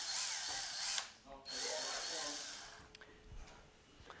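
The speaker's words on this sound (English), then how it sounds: "If you do decide to drill it out, you're going to create some dust from the fiberglass PCB." A power drill whines through a fiberglass PCB in a robotics workshop, a loud high-pitched burst that cuts out briefly, restarts, then gives way to faint clicks and handling noises.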